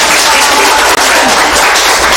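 Broadband clapping from a church congregation at a Mass, dense and steady throughout, loud and close with no talk over it.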